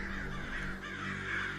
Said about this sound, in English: when I go outside, the crows follow me around, making a racket